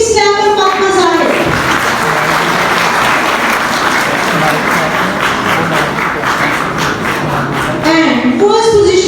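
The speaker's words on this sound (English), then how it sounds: "Please clap for Fatima Zahid." An audience at a school annual investiture ceremony bursts into sustained applause that fills the hall for several seconds, with an announcer's voice at the start and end.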